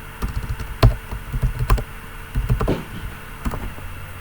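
Someone types an unzip command on a computer keyboard: a close, uneven run of crisp key clicks and taps, with a few louder strikes like the enter key, and no voices.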